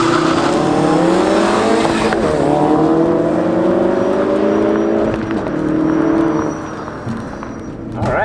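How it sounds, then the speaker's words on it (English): A 2016 Ford Focus RS makes a launch-control 0-60 run. The engine roars loud and close, climbing in pitch through the gears with brief dips at each shift, before easing off near the end. "You got launch control engaged. See how it does in the Ford Focus RS."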